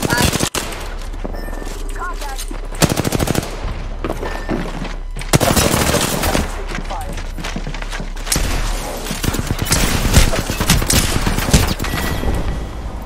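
Sustained rapid carbine fire in a first-person video game shooter, long dense automatic bursts with thumps and brief pauses, loud throughout, with players' voices talking intermittently underneath.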